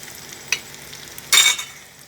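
Thai fluffy omelette with cha-om and long beans frying in oil in a pan, a soft steady sizzle with a brief clatter, then a louder burst of crackling for a moment before it settles back.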